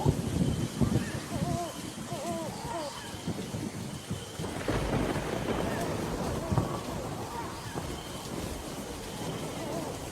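Heavy rain pours steadily with rumbling thunder rolling through, a dense, loud storm wash with faint voices buried beneath.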